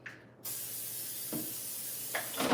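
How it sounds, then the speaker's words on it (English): A steady, close hiss of avocado oil spray running continuously over Brussels sprouts, with a few brief clicks and rustles of handling along the way. "I'm gonna spray them again with the avocado oil."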